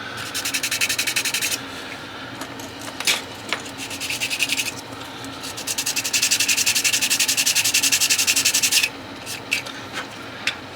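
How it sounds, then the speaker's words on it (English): Sandpaper rubs against a plastic part of an AMT 1963 Corvette model kit, loud close bursts of rapid rasping strokes that stop and restart, with a longer sustained stretch near the end. "Give a little bit of a sandpaper to it."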